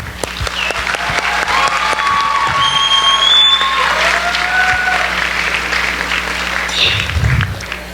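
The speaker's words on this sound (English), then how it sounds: "Let's give them a big round of applause together." An audience at a student association show gives dense, sustained applause that fills the room evenly, with a few whistles and cheers rising above the clapping.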